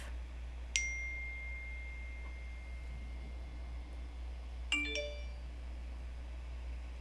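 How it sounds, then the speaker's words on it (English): Notification chimes from a device sound in a quiet room, first a single ding and then a quick cluster of two or three bright tones a few seconds later, fairly faint over a steady low hum. "Sorry about all the notifications going off in the background."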